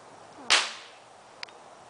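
A Nerf gun fires a dart with one sharp, close snap followed by a short fading tail, then a small faint click about a second later.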